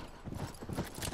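Horse hooves clip-clop in a quick, even rhythm as a horse is ridden in the video game The Last of Us, heard quietly and briefly with no talking.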